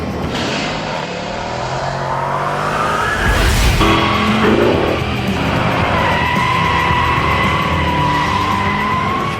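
Mercedes-Benz E63 AMG slides with its tires squealing and skidding at length as the engine roars and revs, loud and close, shifting pitch as the car drifts through the turn, no voices.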